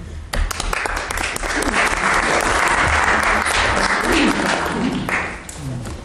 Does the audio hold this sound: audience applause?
yes